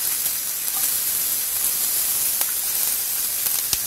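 Chopped small onion frying in about four tablespoons of hot olive oil, a steady broadband sizzle with a few sharp pops and crackles, constant and close throughout.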